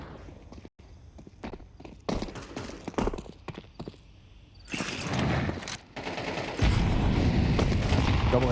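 Two HE grenades detonating in a Counter-Strike match, heard as heavy booms that swell into a loud, sustained roar, with scattered gunfire and clattering footsteps before them and no voices.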